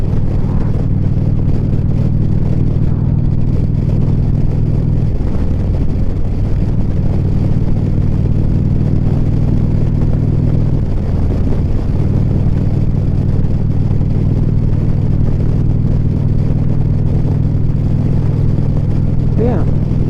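Steady in-car road drone of a car on a short ride from Bridgeport to Okanagan, Washington, a continuous low rumble with tire hiss throughout, loud and close, with a voice talking over it.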